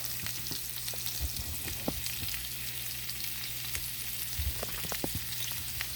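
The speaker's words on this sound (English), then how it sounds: "Frying these up a bit." Whitetail deer heart frying in a pan, a steady close sizzle and crackle with scattered pops throughout, bacon cooking nearby.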